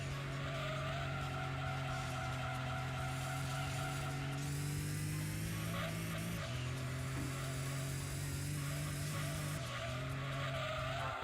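A Toyota Celica GT4 race car driven hard in a video game, its steady engine drone holding and shifting pitch with short tire squeals and skids, loud and continuous throughout.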